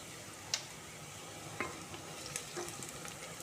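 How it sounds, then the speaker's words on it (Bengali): Sliced onions frying in a pan with a pinch of salt while being stirred, a soft continuous sizzle broken by a few sharp scrapes of a spoon against the pan, no talking. "বেরেস্তা ভাজার মধ্যে একটু নুন দিয়ে দিচ্ছি।"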